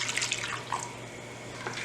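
A cup of milk pours into a pan with a short liquid splash and gurgle. It is near and moderately loud, lasts under two seconds and tapers off quickly.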